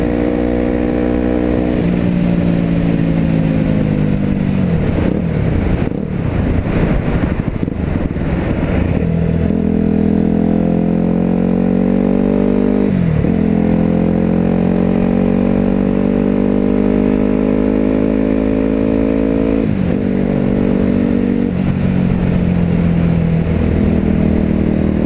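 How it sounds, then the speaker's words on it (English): Yamaha WR250X supermoto ridden on the road, engine droning loud and close with several gear shifts and throttle blips, wind rushing throughout and no talking. "just enjoy the ride on this WR250X Supermoto"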